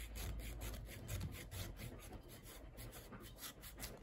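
A 6V lamp battery is cut with a hand tool, producing a quiet, rhythmic rasping and sawing stroke after stroke at close range with no talk.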